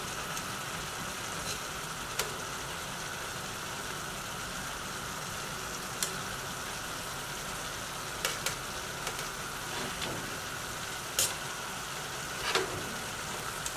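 Large king prawns (gambas) fry in a pan with a steady, dense sizzle lasting throughout, broken by a few faint clicks and taps of a utensil, with no voices.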